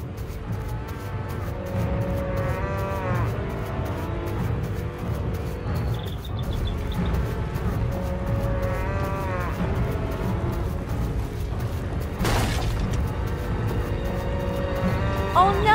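Cartoon cows on a farm moo repeatedly in drawn-out, overlapping calls over busy animated background sound, with a sharp swoosh partway through.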